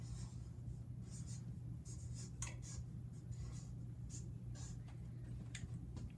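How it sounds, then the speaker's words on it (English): A pen writes a name on paper, quiet scratchy strokes in short bursts over a low background hum. "I'm going to write my name, Miss Conley."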